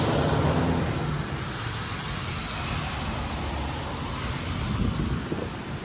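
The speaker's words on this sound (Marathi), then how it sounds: "वारा भरपूर आहे" Strong wind roars into the microphone during sudden summer rain in Korea, a loud continuous buffeting rush with a low rumble of passing vehicles and buses beneath.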